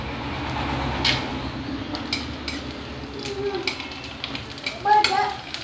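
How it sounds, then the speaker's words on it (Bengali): Papad frying in hot oil in a home kitchen, a steady crackling sizzle with occasional clinks of a utensil against the pan, close by, while a person talks over it. "পাঁপড় ভাজা হচ্ছে"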